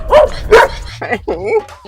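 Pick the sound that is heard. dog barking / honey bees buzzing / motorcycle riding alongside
dog barking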